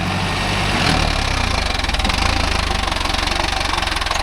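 A Mahindra Arjun Novo 605 tractor engine runs in mud with a loud, close diesel chugging that settles into a steady, rapid knocking pulse under load, with no voices over it.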